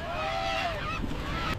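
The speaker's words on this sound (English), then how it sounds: "Watch the birds on the starboard side." Goose-like birds call near a fishing boat at sea, a drawn-out honking cry followed by a couple of shorter calls over engine and water noise.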